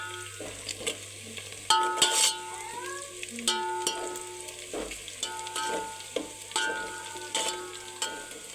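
Chilies, onions and garlic sizzle and crackle in hot oil for a Telangana-style chicken curry. The frying is fairly loud and close, with stirring bursts and some faint tonal sounds mixed in.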